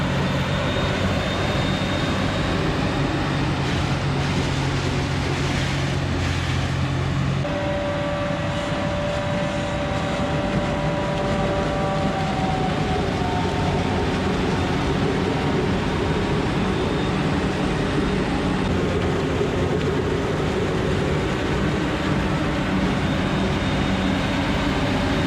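Steady, loud mechanical drone of a corn silage harvester chopping corn during a bunker silo fill, with continuous low engine rumble and a tonal whine that shifts partway through, running without talk.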